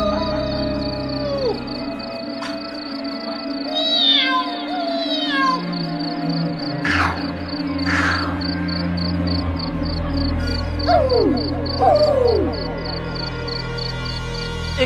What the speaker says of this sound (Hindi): उस सन्नाटे में जंगली जानवर की अजीब अजीब आवाज साफ पर